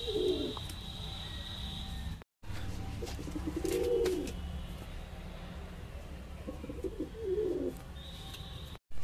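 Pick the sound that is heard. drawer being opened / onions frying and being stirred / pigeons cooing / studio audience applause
pigeons cooing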